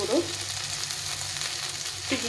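Spices with salt, turmeric, cumin and chilli powder frying in hot oil for egg biryani, a steady close sizzle with brief scraping stirs near the start and end.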